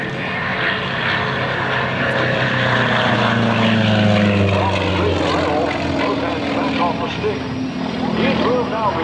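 Propeller-driven Sukhoi aerobatic plane with titanium airframe parts flying a big loop at an airshow, its steady engine drone loud and continuous with shifting pitch as it climbs and turns, a commentator's voice running over it.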